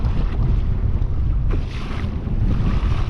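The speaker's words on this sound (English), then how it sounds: "Very gusty, windy. Not sure if you can hear the wind" Loud, blustery wind buffets the microphone in strong gusts over rushing harbor water at Huntington Beach, continuous and close with no voices.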